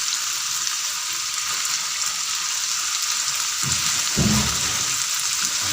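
Chicken and peas frying in a pan for chicken macaroni, a steady hissing sizzle with a brief louder burst of crackle near the end as carrots go in.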